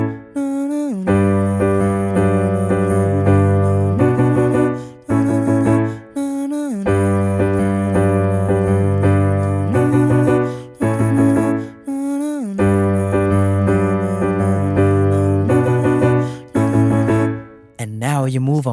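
Piano plays a steady chordal passage, sustained harmonies in phrases separated by short pauses, loud and close with no voice.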